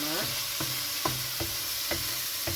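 Chicken for Chettinad pepper chicken sizzles in oil in a pan, a steady frying hiss broken by regular scraping stirs of a spatula, close and continuous.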